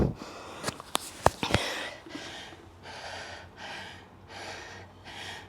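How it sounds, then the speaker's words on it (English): Heavy, labored breathing after an intense bodybuilding training session: a few sharp gasps and snorts early on, then slow, steady rhythmic breaths in and out, close and fairly quiet, with no talking. "It's gonna take a while to get my breath back."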